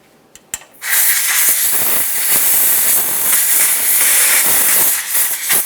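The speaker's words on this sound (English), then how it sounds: "I'm just going to use some compressed air." Compressed air blasts steadily and loudly near an input speed sensor on a 2007-2013 Acura MDX, cleaning the area after a couple of faint clicks, a continuous close hiss lasting several seconds.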